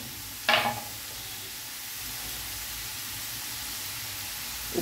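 Tomatoes sizzle in a pan over a high gas flame, a faint steady hiss with a sharp scrape or clatter near the start.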